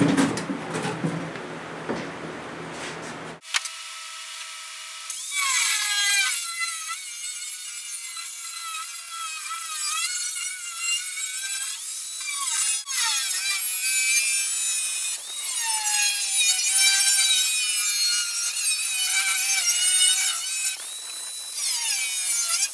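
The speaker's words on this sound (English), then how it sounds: "In the bottom of the box, I've got the hole laid out. We're going to cut that out." Saw cutting a hole through the bottom of a dune buggy's fuel tank box, with steady rasping back-and-forth strokes running almost continuously and close up after a brief quiet start.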